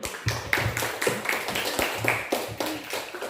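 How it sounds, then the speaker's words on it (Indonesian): Scattered hand claps from a small group at an Indonesian talk, a few distinct slaps standing out over a thin, uneven patter that keeps going for a few seconds at moderate distance. "Tepuk tangan dulu."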